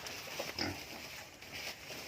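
Native pig grunting near a farm pen, a few soft low grunts over a faint steady background hiss.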